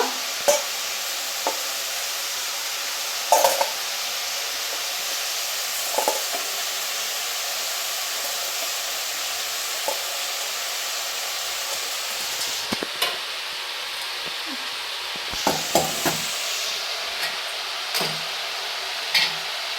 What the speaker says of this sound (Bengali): আলুগুলো হালকা লাল করে ভেজে নিচ্ছি